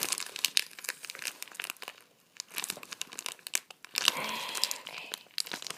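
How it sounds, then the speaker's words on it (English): A plastic sticker packet being torn open and crinkled by hand, with dense, continuous rustling and crackling that briefly pauses and then resumes louder, close up and with no talking. "And I'm going to open this other sticker packet."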